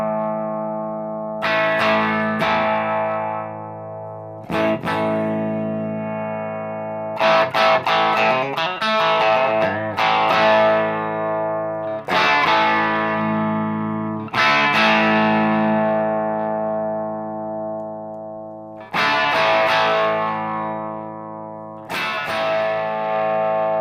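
An electric guitar played through a PedalFire amp with a tapped treble potentiometer gives full, sustained distorted chords with reverb. They are struck repeatedly with short picked flurries between them, loud and close, with no voice.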